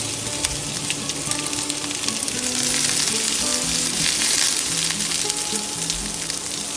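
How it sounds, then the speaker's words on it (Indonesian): Onions sautéing in olive oil, a steady, dense sizzle and crackle that fills the pan continuously with no voices. "Masukkan bawang bombay dan tumislah hingga layu."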